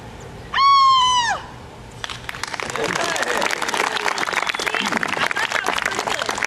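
Applause following an acting scene in a rehearsal, coming in after a sung or shouted note: a scattered clapping texture of several hands that fills the rest of the clip at moderate level.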